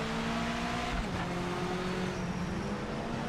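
Race cars in the video game Project Motor Racing during an MX-5 spec race, with an Aston Martin GT3 Vantage in the field; a steady engine drone holds under shifting tones, with no talk.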